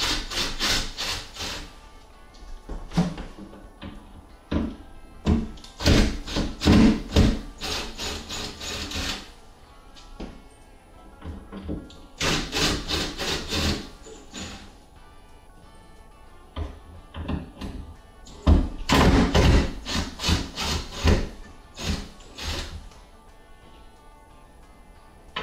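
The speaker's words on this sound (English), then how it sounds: "we can go ahead and remove these temporary braces that were holding the plywood stiff." Temporary wooden braces are unscrewed from plywood, with bursts of a whirring, ratcheting power driver separated by quieter pauses, close and loud, repeating several times.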